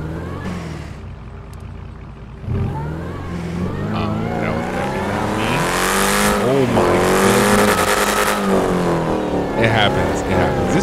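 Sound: Dodge Hellcat car driving in video game GTA 5

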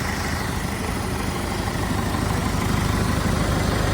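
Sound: tractor engine idling

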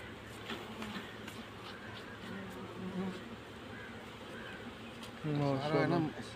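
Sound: bees buzzing around a wooden hive frame

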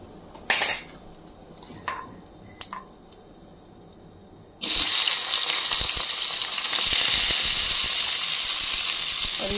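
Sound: cumin sizzling in hot oil

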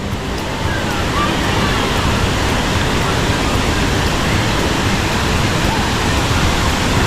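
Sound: waterfall swollen by monsoon rain in Meghalaya

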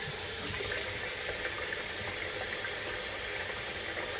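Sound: running tap water rinsing something off

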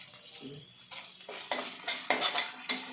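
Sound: ginger garlic paste frying with turmeric for egg curry

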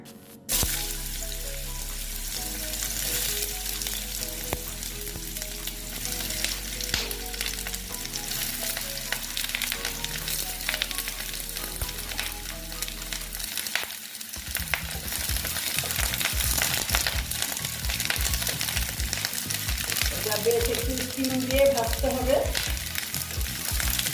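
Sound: frying chichinga (snake gourd) in oil

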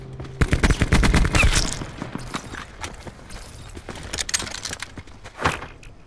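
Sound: grenade explosion in a video game

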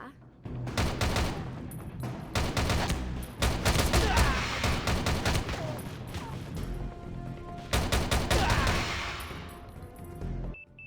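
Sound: gunfire in a video game

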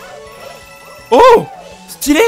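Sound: dog barking

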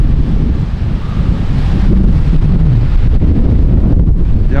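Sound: wind on the Brittany coast

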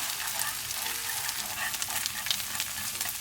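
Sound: eggs scrambled in oil and butter in a frying pan

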